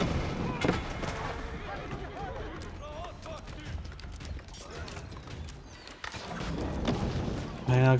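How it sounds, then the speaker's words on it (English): A keep and janissaries firing in a battle in the video game Age of Empires 4, a dense continuous clatter of gunshots and cannon booms under game effects and a talking voice. "Got the keep up here also firing away as well."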